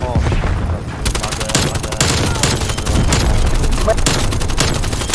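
Dense gunfire rages in a Call of Duty: Black Ops Cold War hardcore Nuketown 12v12 match, with loud, rapid automatic bursts overlapping throughout.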